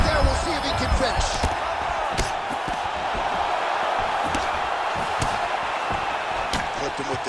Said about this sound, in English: You hear this crowd just eating out of his hand, oohing and on every time he advances